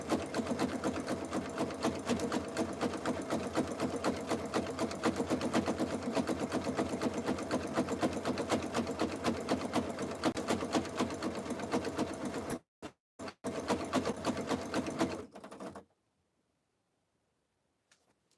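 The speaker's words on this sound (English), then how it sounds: "We've got it set out a nice wide zigzag, so we're catching the fold of the fabric on the underside as well." A sewing machine runs a wide zigzag stitch on a fabric jelly roll rug, humming steadily and close for about twelve seconds, then giving a few short bursts before stopping into near silence.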